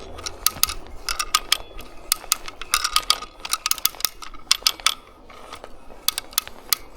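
A ratchet cranked repeatedly while felling a tree, sharp metallic clicks in quick close bursts with a brief pause near the end.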